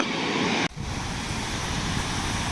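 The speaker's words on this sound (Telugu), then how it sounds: "ఇదే ఈ వాటర్ ఫ్లోయింగ్ వాటర్ ఫాల్స్ అంట." Steady, dense rushing of water at Pykara waterfall near Ooty, continuous and loud, with a brief dip partway through.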